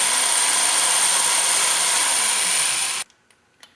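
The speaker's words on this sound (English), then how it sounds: "We mounted a 3/16 drill bit in the hand drill, and we're going to drill all 3 holes" Continuous high-pitched whir of a hand drill with a 3/16 bit boring a hole for about three seconds, stopping abruptly, followed by a few small clicks.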